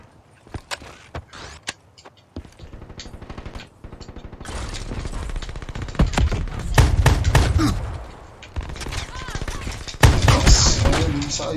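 Gunfire in the Xbox shooter Black Ops III, with sparse single shots and clicks at first, then dense bursts of automatic fire and loud blasts that grow heavier and keep going to the end.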